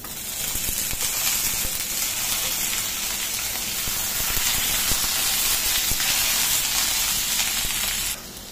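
A loud, steady sizzle of potatoes and ivy gourd frying in a pan, continuous hiss throughout, dropping off sharply near the end.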